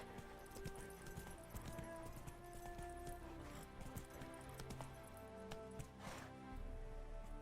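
Horse galloping in the video game The Witcher 3, a steady, continuous clip-clop of hooves under layered tonal game music, moderately loud throughout.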